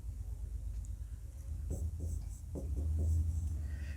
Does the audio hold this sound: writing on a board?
yes